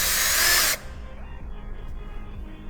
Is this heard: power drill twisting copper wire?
yes